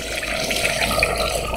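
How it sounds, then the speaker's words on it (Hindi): Water pours into a cooking pot of potatoes and spiced mutton in a short, steady splashing stream, close and moderately loud. "इसमें मैं 1 कप और पानी ऐड करूँगी"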